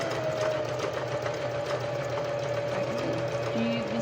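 A sewing machine hems the bottom edge of a garment, running with a steady, continuous mechanical whir for the whole stretch at a moderate, close level.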